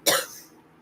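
A single sharp cough, close and loud, with a quick burst that fades over half a second.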